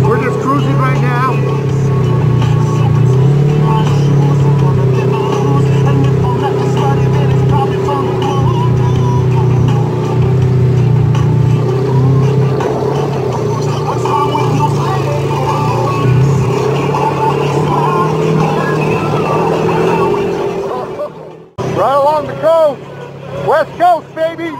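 A Polaris all-terrain vehicle cruises through sand dunes, its engine a steady, loud drone that holds nearly constant for about twenty seconds before abruptly dropping away, with voices talking over it throughout.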